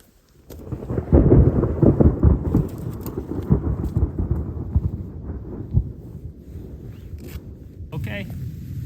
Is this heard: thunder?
yes